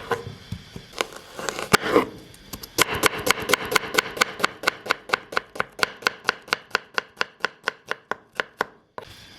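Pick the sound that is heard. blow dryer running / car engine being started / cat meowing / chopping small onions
chopping small onions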